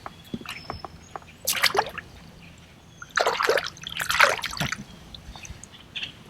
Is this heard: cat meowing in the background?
no